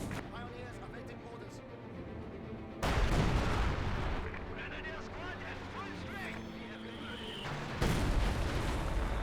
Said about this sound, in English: Howitzer barrage somewhere in this region, looks like.